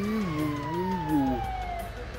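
A person's voice imitating an ambulance siren, a close, wavering wail that rises and falls over a couple of cycles, then glides downward and fades.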